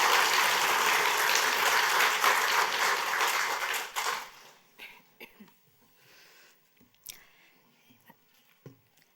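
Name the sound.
audience applause of encouragement in a church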